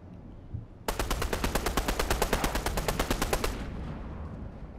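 Rapid automatic gunfire in the video game Fortnite, a loud sustained burst of evenly spaced shots lasting about three seconds, heard alone with no talking.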